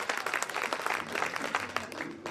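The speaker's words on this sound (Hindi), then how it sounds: "वे आए माइक पर और जोरदार तालियों से आप" Applause from a seated audience at a kavi sammelan poetry gathering, a dense steady patter of clapping lasting the whole stretch, moderately loud and even.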